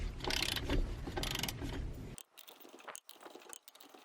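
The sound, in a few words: torque wrench tightening trailer wheel lug nuts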